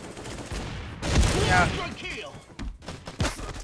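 An M4A1 rifle upgraded to +15 in Bullet Angel fires in short automatic bursts, punchy and close, separated by brief pauses, with a voice talking over the shots.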